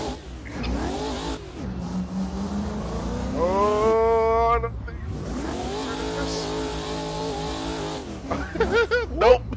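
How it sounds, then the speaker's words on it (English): Loud, continuous V8 race car engine roar from an ESDA M4 in a racing video game, revving and shifting through rising and falling pitch sweeps, with a brief voice near the end. "Oh yeah, my car's really loud, dude."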